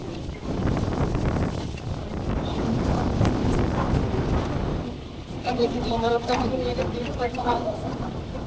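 Strong wind at a secluded lagoon in Manila roars and buffets the microphone with heavy, rumbling gusts, while people talk close by throughout.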